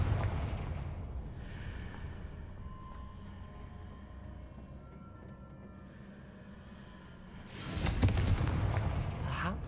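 A Confringo fire spell blasts in Hogwarts Legacy, a loud broadband burst near the end that rises out of a steady low game ambience and then trails off.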